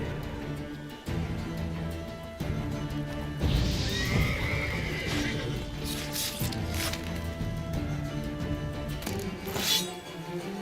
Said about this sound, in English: डर गया घोड़ा